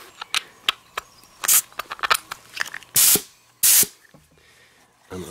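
Compressed air blasts through a 3M air filter mask outdoors: a run of short sharp hissing puffs, then two longer roaring sprays with quiet gaps between, close to the listener.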